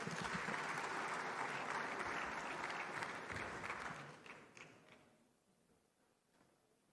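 Conference audience at the 30th Afreximbank Annual Meetings applauding in a dense, steady wash of clapping that thins and fades out over the last two seconds.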